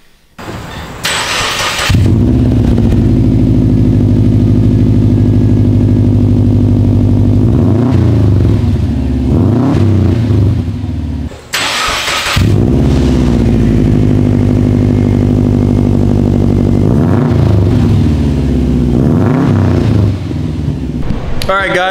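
A Subaru WRX fitted with an Invidia downpipe cranks and fires up twice, each start settling into a loud, steady, deep idle with a few light blips of the throttle, close to the exhaust.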